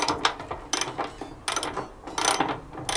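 A ratchet works on the top bolt on the passenger side of a Nissan Pathfinder during a bonnet strut install, giving several short bursts of quick metallic clicking separated by brief pauses, moderately close.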